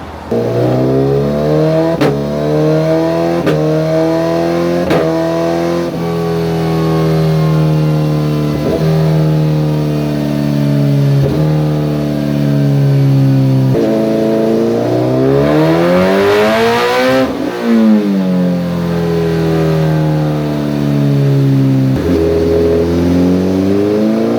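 A 2023 Suzuki Hayabusa fitted with Brock's cams and a custom tune runs on a dyno during engine break-in. The engine is loud and close, rising through repeated revs and falling back in a steady cycle, with one higher sweep near the end and no voices.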